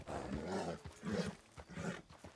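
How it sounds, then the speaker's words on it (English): Three drawn-out, rising-and-falling wolf howls in Red Dead Redemption 2, evenly spaced and fairly close, standing clear over a quiet outdoor background. "Oh, I hear a wolf."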